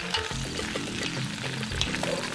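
Sausage dropped into a Dutch oven of translucent onions, hissing and sizzling in a steady, loud wash with a few clattering knocks, close by.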